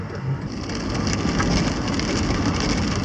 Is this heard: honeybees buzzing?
no